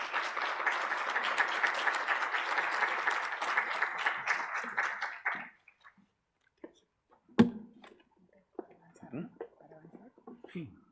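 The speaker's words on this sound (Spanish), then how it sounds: "La recibimos con un fuerte aplauso," Audience applause welcoming a speaker at an academic talk, a dense burst of many hands clapping that fills the first five seconds and then stops abruptly, leaving only sparse room noise, a sharp knock and faint movement.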